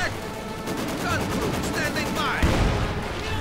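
Maxim machine guns fire in a World War II real-time strategy game battle, rapid bursts of gunfire rattling over a dense wash of combat noise, with a heavier boom partway through and a commentator talking over it.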